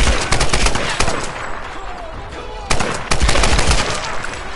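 Rapid automatic gunfire in the video game Tomb Raider (2013) rattles loud and close in dense bursts, with a brief lull before a second burst.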